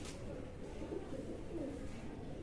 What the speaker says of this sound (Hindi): ये जो साथ में कबूतर उड़ा है शायद इसकी वजह से कर रही है